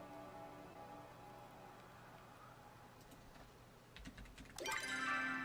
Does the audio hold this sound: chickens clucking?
no